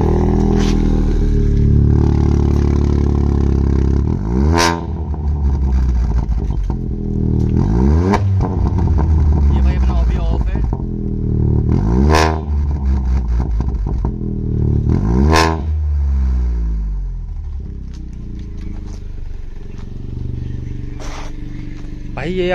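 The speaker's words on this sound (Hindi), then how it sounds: "तो भाई एक बार एग्जॉस्ट आपको आवाज़ सुना देते हैं उसकी।" A modified Volkswagen Polo with a Valvetronic exhaust idles with a deep, loud rumble, punctuated by four or five sharp rev blips spaced a few seconds apart, each rising and then falling back to idle.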